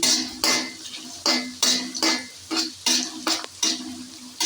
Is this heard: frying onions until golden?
yes